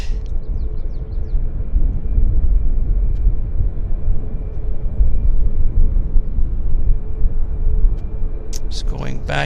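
Airliner landing at Vancouver airport, a steady broad roar of engine and rumble sustained throughout, fairly loud, with brief chirps and a faint tone near the start and end.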